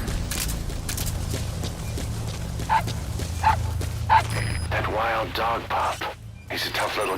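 In Metal Gear Solid V: The Phantom Pain, a wild dog pup lets out a few small, high yips over a steady game background, and voices speak near the end.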